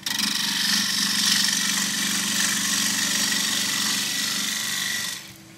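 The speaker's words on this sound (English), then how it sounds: "Half inch spindle gouge." A half-inch spindle gouge works a chuck collar on a wood lathe, giving a loud, steady hiss and hum that holds for about five seconds and then stops.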